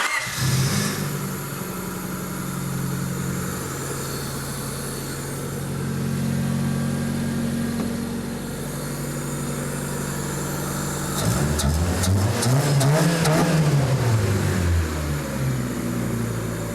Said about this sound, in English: Sounds like a good engine.